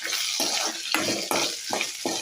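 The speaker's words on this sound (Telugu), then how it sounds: "ఇప్పుడు ఎండుమిరపకాయలు వేసుకోండి." Dry red chillies frying in a pan for gongura roti pachadi, a steady hissing sizzle punctuated by several stirring scrapes and bursts, close and fairly loud.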